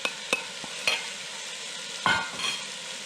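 Beef mince being broken up and browned in a pan: a few sharp scrapes and stirring knocks over a low, quiet sizzle, with a louder burst of frying near the end.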